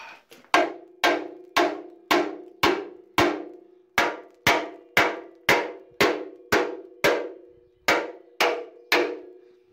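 Hammer tapping steel bodywork on a 1971 Range Rover: about sixteen sharp, ringing metallic strikes at a steady, fairly quick rhythm, each decaying briefly, close and clear with no talking.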